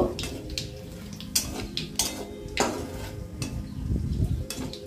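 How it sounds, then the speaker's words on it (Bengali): Nigella seeds and a bay leaf fry in oil in a pan, a soft continuous crackle broken by intermittent metallic clicks and scrapes of a spatula, fairly quiet and close. "এটাকে এবার আমি একটু ভেজে নেব।"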